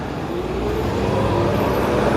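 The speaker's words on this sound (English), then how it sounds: "Bus farted." A city bus engine on a New York street gives a loud, steady, low rumble close by, with broadband traffic noise around it and no talking.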